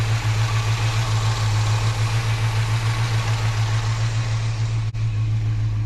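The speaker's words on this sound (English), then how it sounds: "I've got her all idling pretty quick" A Holden HK car with a new engine idles fast and steady, giving a loud, even, low rumble with a slight pulsing throb that holds unchanged for about six seconds.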